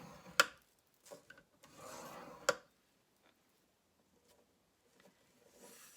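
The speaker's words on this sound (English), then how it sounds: "you're going to score it at 1 inch" A tool scores lines into paper for a gift box, producing a few short scraping strokes and sharp ticks close by, separated by quiet pauses.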